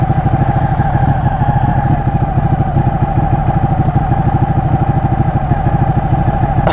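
A VW-engined trike runs loud and close, its engine thumping out a fast, even pulse with a steady droning rumble throughout, no voices over it.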